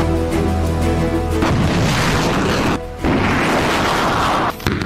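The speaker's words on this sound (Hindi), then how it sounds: "इस 1 मिनट के वीडियो में जेलेंस्की ने अमेरिका से मिली M777 तोप से लेकर हाइमार्स के रॉकेट हमले दिखाए।" Artillery fire from an M777 howitzer and HIMARS rocket strikes in the Ukraine war, heard as loud, continuous, dense battlefield roar and crashing booms that fill the whole clip, with two brief sharp cut-offs and no talking.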